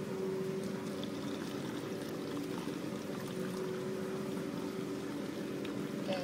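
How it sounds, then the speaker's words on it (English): Vinegar pours steadily into a plastic bottle for a rocket experiment, giving a continuous close trickling, gurgling stream with a faint background hum and no talking. "just pour in the vinegar in now."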